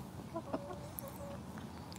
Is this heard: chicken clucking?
yes